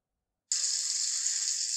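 A water sample is poured from a bucket into a beaker during a biofloc aquaculture water-sterilization demonstration. After a short silence, a steady, close splashing hiss runs without a break.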